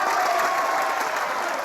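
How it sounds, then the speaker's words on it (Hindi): An audience claps for a line of dialogue in a Hindi movie scene. Steady, dense applause from many hands carries evenly at a moderate level from start to finish, with no pauses. "हर डायलॉग पे ताली बजा रहे हैं।"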